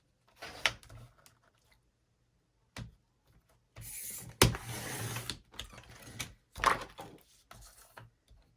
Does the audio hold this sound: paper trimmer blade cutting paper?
yes